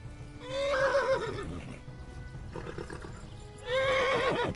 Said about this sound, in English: Oh, shut up, horse.